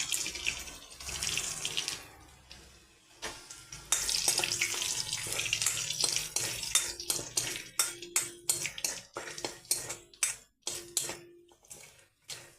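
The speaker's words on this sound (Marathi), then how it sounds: "त्या जिरे टाकायचे लसूण टाकायचा कडीपत्ता टाकून घ्यायचा" Cumin, garlic and curry leaves sizzle in hot oil for a tempering, giving a rushing hiss that breaks into sharp, rapid crackles and pops. The spattering grows more distinct and staccato as it goes on, with no talking.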